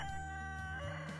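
Chickens give a quick, faint run of soft clucks, heard alone at low volume.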